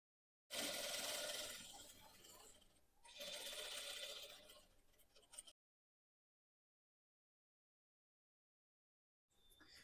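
Sewing machine stitching anchor lines over existing thread seams on a party wear suit, two close, steady whirring runs separated by a short pause, then silence before the motor starts again near the end.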